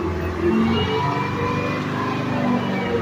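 A Detroit 453 diesel engine runs at quarter throttle and bogs down, giving a steady, low, laboring rumble with slight dips in its drone.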